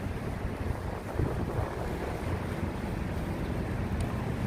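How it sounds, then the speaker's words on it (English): The Beast, a fast speedboat on the Hudson River along Manhattan, rushes past with a loud broadband roar of engine and churning water, mixed with wind buffeting and splashing waves. "The Beast is a very fast vessel that goes along Manhattan"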